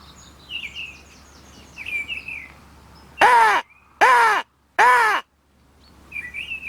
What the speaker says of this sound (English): a couple of magpies decided to appear and started scoffing the rabbit down I'd set out as bait